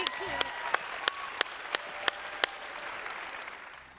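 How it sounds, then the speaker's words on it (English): Audience applause at a network marketing seminar, a steady patter of claps with a few sharper bursts standing out, fading gradually toward the end with some faint talk mixed in. "Give Hillary a big round of applause"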